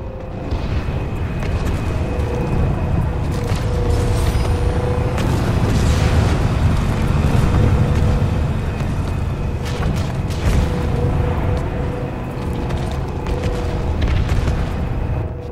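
Heavy booming explosions from a video-game tank battle fill the scene, loud and sustained with repeated blasts and rumbling over a dense battle din, no voices.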